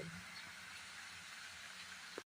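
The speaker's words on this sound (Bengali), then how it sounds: "বাইরে কি প্রচণ্ড বৃষ্টি হচ্ছে দেখো, অঝরে বৃষ্টি হচ্ছে।" Heavy rain falls outside as a steady, dense hiss that stays even throughout the short stretch, fairly faint and heard alone with no talking.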